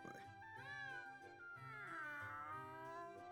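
A cat meowing in The Adventures of Elliot video game: drawn-out, tonal mewing cries that rise and bend, continuous and fairly faint within the game audio.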